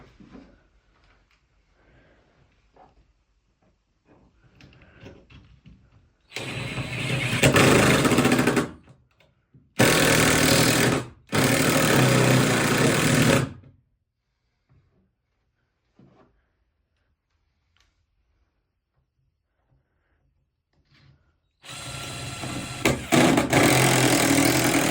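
Loud bursts of power-drill whine driving screws into a shower flange, one around two seconds, two shorter back-to-back runs, then another starting near the end, separated by quiet handling noises.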